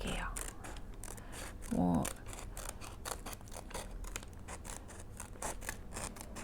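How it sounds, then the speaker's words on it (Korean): Scissors snip through paper at a table during a Waldorf light-picture craft, with repeated crisp cuts in a quiet room and brief soft talk. "하지만 요거 할 때는 가위가 조금 더 편할 것 같아서 지금은 가위로"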